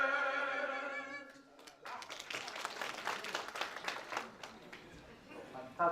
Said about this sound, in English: Another round of applause there for everybody and for the lead singer.